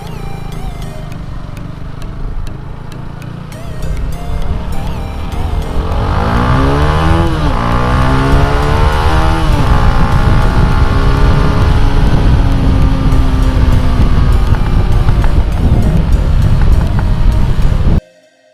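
A Bajaj Apache 200 motorcycle with a modified exhaust revs loudly and close, its note climbing and sweeping through repeated throttle blips before cutting off abruptly at the end.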